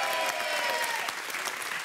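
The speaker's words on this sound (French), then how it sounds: "Allez, soyez les bienvenus, on vous applaudit." Studio audience on a French TV couples game show bursts into bright, sustained clapping that carries evenly through the short moment, close and alone without talk.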